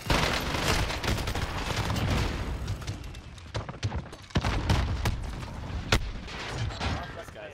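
Gunfire in a multiplayer shooter video game: a steady wash of distant shots and booms, then several sharp, isolated nearby cracks spaced out over the second half.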